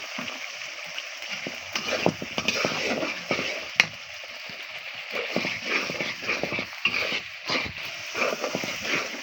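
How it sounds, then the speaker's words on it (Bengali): Spring onion greens being stir-fried over high, smoky heat in a pan for a tilapia and winter vegetable dish: close, irregular scraping clatter of a spatula against the pan over a steady hissing sizzle, with no voices. "আমি এবার পেঁয়াজ পাতাগুলো দিয়ে দেব এটা দিয়ে একটু কষিয়ে নেব"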